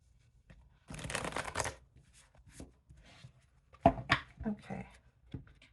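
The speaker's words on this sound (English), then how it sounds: "Give these a good shuffle." Tarot cards are shuffled up close for a pick-a-card reading, with a dense riffling burst followed by scattered softer card slides, taps and snaps.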